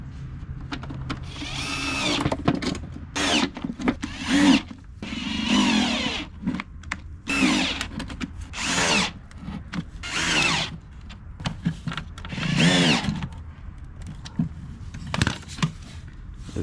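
A power drill drives screws back into the air filter housing of a 2011-2016 BMW 5 Series F10 with the N63 engine, in repeated loud whirring bursts separated by brief pauses, close up and without talk.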